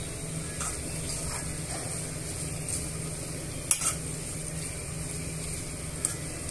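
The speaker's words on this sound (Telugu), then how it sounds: "మీరు కూడా ఇలా సన్నగా తురిమి బీన్స్ని రౌండ్గా కట్ చేసి ఈ తాలింపులోకి వేసేసుకోవాలి." Thinly sliced round-cut green beans sizzle in hot oil with tempering spices. A steady close hiss is broken by a few light clicks from stirring.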